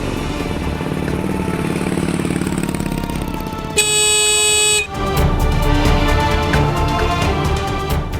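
A loud, sustained vehicle horn blares for about a second, standing out over steady traffic and engine noise before and after.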